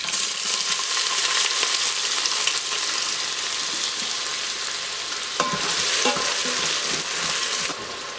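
Diced onion fries in an Instant Pot with spluttering shahi jeera, giving a loud, close, crackling sizzle that runs throughout with stirring scrapes, easing slightly at the very end.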